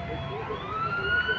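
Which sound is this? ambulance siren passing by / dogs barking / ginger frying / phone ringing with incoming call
ambulance siren passing by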